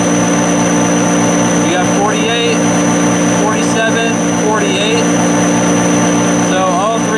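A motorcycle engine revs to about 3,000 RPM during a stator output test on a warranty part, holding a loud, steady drone throughout while someone briefly talks over it.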